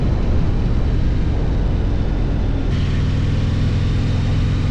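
A Harley-Davidson Breakout 117 motorcycle accelerates through the gears, a loud steady engine drone with heavy wind rush, shifting in tone partway through as the next gear catches.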